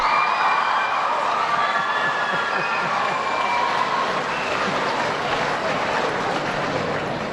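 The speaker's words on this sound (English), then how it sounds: "Give him a round of applause." A large crowd in Buffalo at a State of the State address applauds and cheers in a continuous, loud wash of clapping and voices that holds steady throughout.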